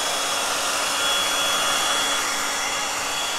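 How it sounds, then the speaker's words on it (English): A heat gun blows steadily and loudly over a painted faux book table, a continuous dense rushing roar with no breaks or voices. "So we're just going to blast this with my heat gun"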